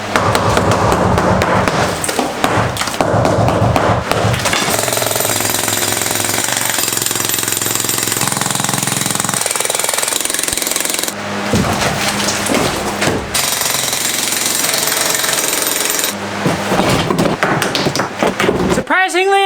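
A jackhammer pounds away at concrete in a basement during a rebuild, loud, close and continuous, in long bursts separated by brief pauses, with rubble clattering between runs.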